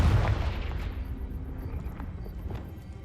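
The Confringo blasting spell detonates in Hogwarts Legacy, a heavy low boom at the start that rolls off into a rumbling, crackling tail with scattered smaller pops from the game.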